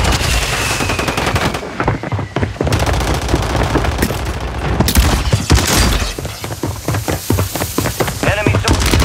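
Rapid, loud gunfire from the XRK Stalker one-shot sniper rifle in the Warzone 3 shooter, with shots and impacts crowding together over dense battle noise and a faint voice now and then.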